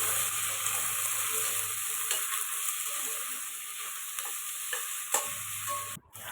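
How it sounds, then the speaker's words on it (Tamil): Onions sautéing in a pan with cinnamon, cloves, star anise and cardamom for prawn biryani: a steady, close sizzle with occasional stirring scrapes, no talk. "3 மீடியம் சைஸ் வெங்காயம் கட் பண்ணி வச்சுருக்கேன். அதையும் சேர்த்து நல்லா வதக்கிக்கலாம்"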